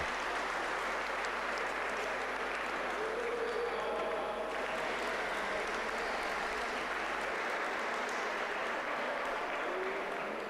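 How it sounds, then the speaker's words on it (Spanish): Applause for the Noreña team at a first-division men's basketball game in an arena in Oviedo, Spain, dense steady clapping from the crowd lasting throughout, with a voice faintly audible beneath. "Y también un gran aplauso para el equipo de Noreña."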